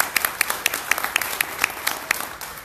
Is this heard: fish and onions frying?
no